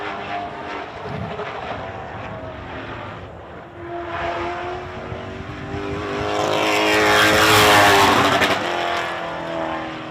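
A racing truck, the 01 driven by Chris Moore, roars around a short track on a lap, its engine drone building steadily to a loud close pass and then fading.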